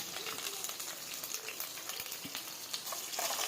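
Peanuts, green chilies and curry leaves fry in hot oil with cumin in a pan, giving a close, steady crackling sizzle with scattered pops throughout.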